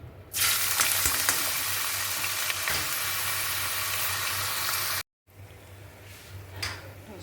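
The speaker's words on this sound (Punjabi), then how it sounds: "ਆਪਾਂ ਸਿਰਫ ਇਹਨੂੰ ਅਦਰਕ ਤੇ ਲਸਣ ਦਾ ਹੀ ਤੜਕਾ ਲਾਵਾਂਗੇ" Ginger and garlic tempered in hot oil for spinach saag sizzle loudly and steadily for about five seconds, then cut off briefly before a quieter, continuing fry.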